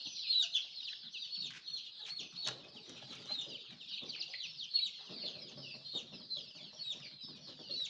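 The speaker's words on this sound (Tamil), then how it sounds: "இதெல்லாம் எங்கள் பண்ணையிலே பொறிக்க வச்ச கோழி குஞ்சுகள்." A flock of native country chicks peeps constantly in high chirps while mother hens cluck softly underneath, close by and busy throughout on a farm.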